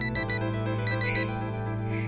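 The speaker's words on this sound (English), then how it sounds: "I heard beeps coming from the battery on my back" Short electronic beeps from a battery worn on the back in the video game MAHOUTEQ, a few quick high alarm-like signals sounding over a steady droning background.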